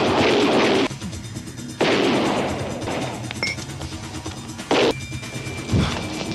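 Gunfire and impacts from an attack on people at a house in an action film scene, heard as several loud broadband bursts separated by quieter gaps, with a few sharp ringing hits.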